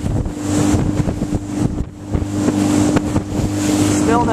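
A Beavertail BT3 boat runs under engine power on open water, a steady loud motor drone with pulsing hull slaps and strong wind buffeting on the microphone, no voices.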